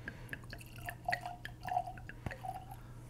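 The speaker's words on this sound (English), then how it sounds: "Love that sound. Yes. Cracking one open." An Old Forester 100 proof bourbon bottle being opened up close: faint, squeaky creaks and small wet clicks, with one sharp soft pop, all quiet.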